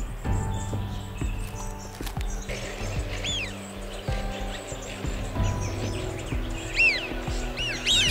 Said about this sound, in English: the birds continue to come